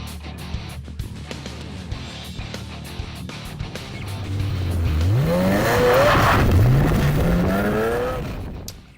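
A Ferrari sports car revs hard, its engine note climbing in rising sweeps while tires squeal. It starts as a low idle rumble and builds into loud, close acceleration over the second half.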